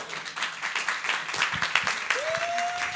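An audience claps in a steady, dense burst of applause, with a rising whistle-like tone appearing near the end.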